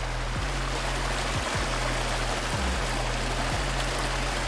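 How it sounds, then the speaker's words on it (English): In Farming Simulator 22, water pours from a pipe in a steady, hissing rush, loud and continuous with no pauses, while a low engine drone hums beneath it. "So it's like the water actually falling out of the pipe."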